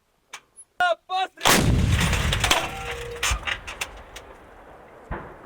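A single MT-12 anti-tank gun blast booms out, followed by a long rumbling echo and a second fainter report, after a few short bird-like chirps.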